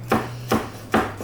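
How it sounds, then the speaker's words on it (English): A knife chops through a rolled bunch of cilantro, stems and all, on a cutting board: three distinct, evenly spaced thuds, close and crisp, with no voices. "Why is he chopping the cilantro"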